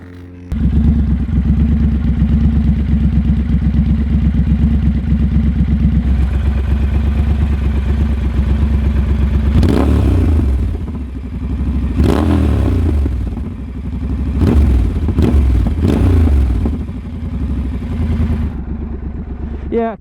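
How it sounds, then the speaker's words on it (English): A Triumph Scrambler 1200 XE custom motorcycle idles loudly and steadily, then revs several times in short bursts, with rattling exhaust and clatter close by. "one thing that you guys always want to hear is the exhaust"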